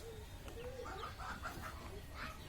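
Domestic chickens clucking in a steady run of short, soft calls under a constant low background hum, with no voices present.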